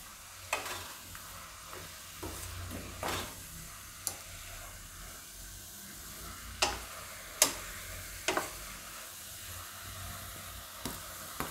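Spices being stirred into spinach dal in a pan, with scattered scrapes and light clicks of a spoon over a soft, steady sizzle and no talking.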